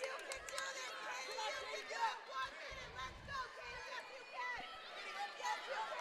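Spectators at a girls' wrestling sectional in Ladysmith, with Hudson and Cadott fans, fill the room with a constant mid-level murmur of chatter and scattered nearby voices.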